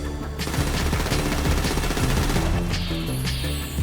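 Rapid bursts of automatic gunfire in a GTA 5 firefight, dense and continuous for several seconds with overlapping shots and a sharper crack near the end, with no talking.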